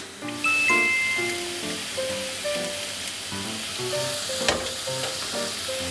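Soffritto frying in a frying pan over high heat, a steady close sizzle with stirring and light clinks of utensils against the pan, with no talking.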